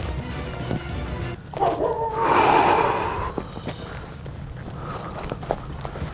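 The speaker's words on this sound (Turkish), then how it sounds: "Köpek" A dog lets out a couple of rough barks and snorting huffs nearby, amid footsteps and rustling outdoors at night at an abandoned tuberculosis hospital.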